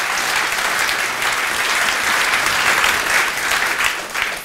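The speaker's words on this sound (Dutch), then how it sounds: "Alvast een applaus voor jullie." A seated audience gives steady, full applause for the speakers after a talk on diets, an even wash of clapping that holds strong for several seconds before easing slightly at the end.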